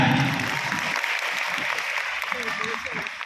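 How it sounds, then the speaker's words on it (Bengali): An audience claps in a continuous round of applause at an event for make-up artists in Kolkata, with a voice briefly heard over it. "প্লিজ সুস্মিতার জন্য একটু জোরে হাততালি হয়ে যায়।"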